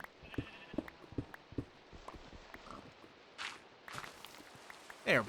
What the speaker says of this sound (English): Oh, I hear sheep.